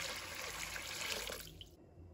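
Water pours steadily into a wok to blanch bitter melon, a continuous rushing splash that cuts off abruptly after nearly two seconds, with no talking.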